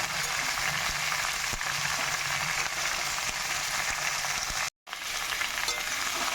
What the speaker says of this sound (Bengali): একটু নাড়াচাড়া করে মিশিয়ে নেবো